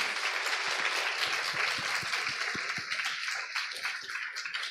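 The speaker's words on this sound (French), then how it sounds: "On peut l'applaudir, s'il vous plaît." An audience applauds after a talk on Harry Potter myths, astrology and critical thinking, a dense steady patter of many hands that thins slightly toward the end, with no speech over it.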